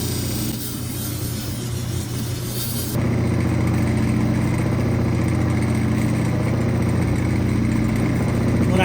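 A cabbing machine's grinding wheel runs steadily while shaping West Texas agate, a loud continuous motor drone and whir that steps up sharply in level a few seconds in and holds constant, with no talk.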